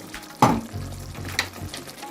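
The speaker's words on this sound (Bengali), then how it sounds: "এটা নেড়ে নিচ্ছি নিয়ে এটার মধ্যে দিয়ে দিচ্ছি যে যে রাখা যে সসেসগুলো আছে সেটা দিয়ে দিচ্ছি" Spicy sausage spaghetti sauce with hot and sweet sauce fries in a pan while being stirred, giving a soft, close sizzle with a louder scrape or clatter near the start.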